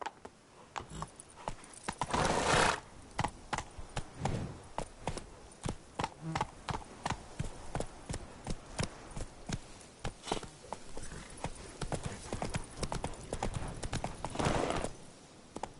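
In a video game, the hooves of the horse Roach clop in a quick, uneven galloping rhythm, with louder thuds now and then and a faint snort, and no speech over it.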